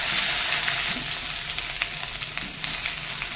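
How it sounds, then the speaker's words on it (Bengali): Dried chili, cumin and garlic crackle and sizzle in hot oil in a pan, a steady close frying hiss with brief bright pops. "এবার আমি লঙ্কাটা আর জিরেটা ফোড়ন দিয়ে দেবো আর রসুনটাও দিয়ে দেবো"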